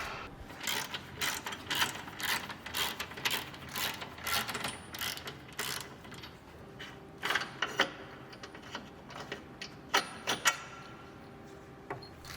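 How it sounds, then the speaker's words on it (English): The bolt at the back of a car's front suspension track control arm is loosened with a ratchet wrench, a quick series of close clicking ratchet strokes in bursts, with no talk. "Now fully loosen the bolt at the back of the track control arm."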